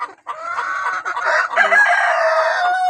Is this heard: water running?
no